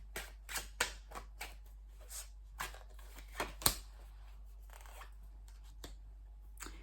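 Tarot cards being shuffled in a quiet room, a run of soft, crisp papery flicks and riffles in irregular bursts, close and fairly faint, with no talking.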